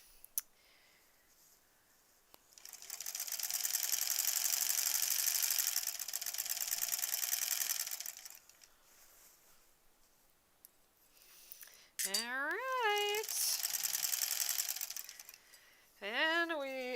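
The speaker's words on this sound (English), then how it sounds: "And we are still sewing, so we haven't ran out of bobbin yet" A sewing machine stitches the borders of a granny squares quilt in two bursts of fast, even whirring, the first lasting several seconds. Quiet pauses and a few light clicks separate them, with a rising-and-falling tonal sound over the second run.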